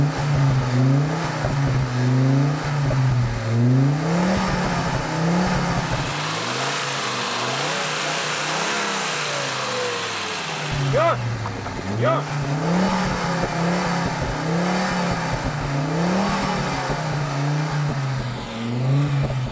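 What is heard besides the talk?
Audi Quattro five-cylinder stock exhaust revving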